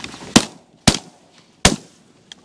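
Three sharp shotgun blasts ring out in quick succession during a Canadian duck hunt, loud and close, each with a short echoing tail, followed by a faint click.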